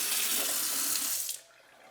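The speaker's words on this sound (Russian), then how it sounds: "поток воды бьет в центр мойки" Water runs from a Paulmark Holstein kitchen faucet into a sink, a steady loud rushing stream that cuts off abruptly near the end, leaving a quiet tail.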